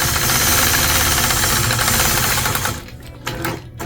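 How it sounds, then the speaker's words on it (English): A sewing machine stitching a quilted circle guided by a sway ruler, running in a fast, steady mechanical whir with rapid needle knocking, then slowing and stopping near the end. "Using gentle pressure again, I'll engage my machine and glide around that circle."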